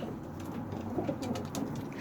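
Soft, low pigeon coos murmur on and off against a faint background hum, with light rustling.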